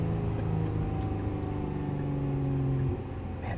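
A 2025 Lotus Emira V6 engine blips and drones close and loud inside the car on a downshift, holding a steady tone before dropping away near the end.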